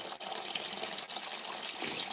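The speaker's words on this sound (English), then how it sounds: "Take the cap off that and fill the kitty bucket with water." Tap water gushes steadily into a cat's water bucket on a farm during chores, a continuous splashing fill with no talk over it.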